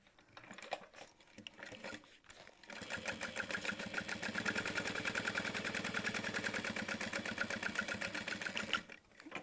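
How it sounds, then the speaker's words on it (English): A sewing machine runs steadily, top stitching a fabric Emma backpack. After a few scattered clicks and handling noises it settles into a fast, even mechanical whir for several seconds, then stops. "Yeah, we're going to top stitch that."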